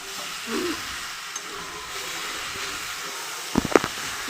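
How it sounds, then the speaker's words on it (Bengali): Pre-fried fish head stir-frying in a thick spiced curry masala, giving a quiet, steady hiss of sizzling with a couple of soft clinks of a spoon against the pan near the end. "আমি আগে থেকে ভেজে রাখা মাছের মাথা এই তরকারির সঙ্গে আরও কিছুক্ষণ কষিয়ে নিলাম"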